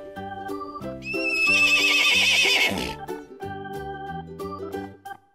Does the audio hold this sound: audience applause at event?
no